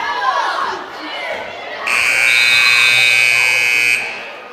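A loud, steady basketball game buzzer blares for about two seconds over a noisy arena crowd at a county tournament, with people chattering before and after it.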